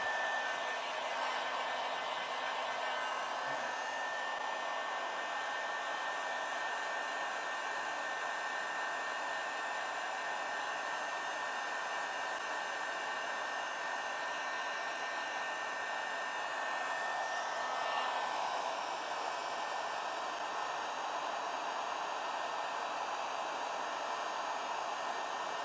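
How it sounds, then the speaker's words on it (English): Heat gun blowing hot air for heat-shrinking a crimped wire connection on an LED headlight install, a steady unbroken whooshing hiss that runs on alone at moderate level. "Heat gun."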